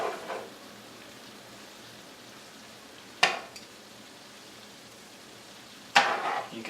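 Vegetables stir-frying in leftover shrimp liquid in a pan, a quiet hiss marked by two sudden loud sizzling bursts as food is tossed or stirred, near and with no talk.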